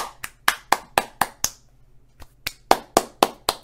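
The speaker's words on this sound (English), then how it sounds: "Can we get a round of applause?" A small group clapping together in loose unison, a rhythmic string of sharp, close claps that pause briefly and then start again.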